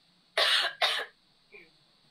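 Two sharp coughs in close succession from a woman who is ill, followed by a fainter short throaty sound, with quiet in between.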